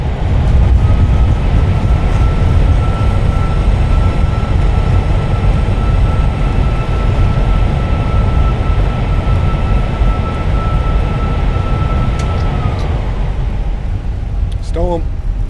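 A Fenix A320 with IAE engines roars loudly on landing in Microsoft Flight Simulator as thrust reversers deploy, a broad, sustained rush of engine noise with a steady tone that cuts off near the end.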